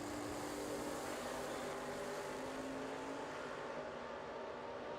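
Dragsters race at the IHRA World Finals with a continuous, dense engine roar, loud and sustained across the whole stretch, without talk.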